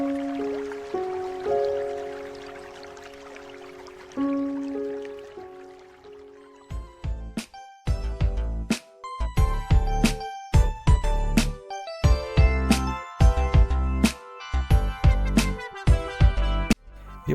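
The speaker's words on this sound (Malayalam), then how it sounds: "ഒഴുകുന്ന വെള്ളത്തിൻ്റെ ശബ്ദം" Water trickling and dripping through a handmade cement fountain whose water-transferring vessels are all cast from cement; soft sustained tones open, then irregular, close, crisp drips and small splashes follow in uneven bursts.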